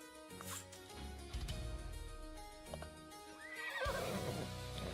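A horse neighs and whinnies with clip-clop hoof sounds in the mobile strategy game Age of Empires Mobile, playing over background game music and effects.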